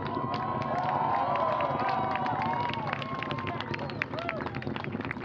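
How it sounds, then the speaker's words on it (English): A crowd at NASA's Wallops Flight Facility cheers and whistles as an Orbital ATK Antares rocket lifts off toward the ISS, a sustained, dense roar of many voices that fades slightly near the end. "Crowd watching the launch at Wallops there, cheering its liftoff."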